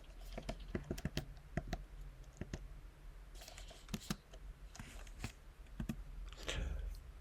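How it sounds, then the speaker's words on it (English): Computer keyboard typing with irregular bursts of close, crisp key clicks, some quick runs and scattered single taps, recorded indoors with no talking. "Now I'm going to type this"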